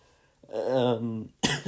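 A single throaty cough, fairly close, followed by a sharp breathy burst as another cough or throat clear begins.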